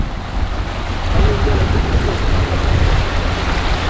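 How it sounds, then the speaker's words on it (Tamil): Loud, steady rushing water with a broad roar, mixed with buffeting wind noise on the microphone. "இங்க பாருங்க, இதுல எப்படி பாயுதான் தண்ணி."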